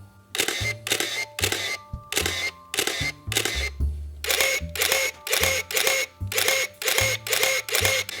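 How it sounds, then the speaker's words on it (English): Crisp shutter clicks from Canon EOS 620 and 650 film SLR cameras fired in a regular series, each a sharp mechanical snap with brief whirr, roughly a dozen evenly spaced releases, close and clear with no talk. "I noted the 620 shutter sounds quieter and cleaner than the 650."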